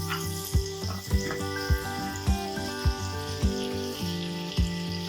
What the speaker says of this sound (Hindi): थोड़ा सा इसमें हम पानी डालेंगे ताकि प्याज जले ना।